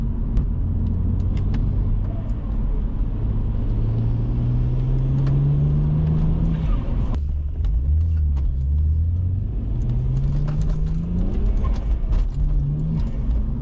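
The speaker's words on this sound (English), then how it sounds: "I haven't put the blow valves on, you just hear the flutter." Turbo flutter from a tuned BMW 1 Series running without blow-off valves, heard inside the car as a steady engine rumble rising through the gears, with a fluttering chatter between pulls; no speech.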